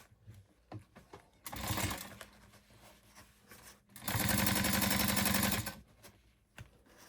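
A sewing machine topstitches a fabric crossbody bag at a long stitch length, running in two short bursts of fast, even stitching with quiet handling pauses between them.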